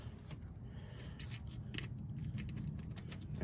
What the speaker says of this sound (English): Just using a little razor, the scraper.